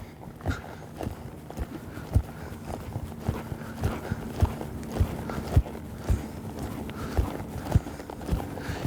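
A horse lopes on the ground, its hoofbeats falling in a steady three-beat rhythm of clear, close thuds that repeat evenly throughout with no talking over them.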